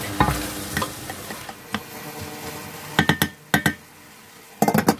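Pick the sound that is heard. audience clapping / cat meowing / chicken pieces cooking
chicken pieces cooking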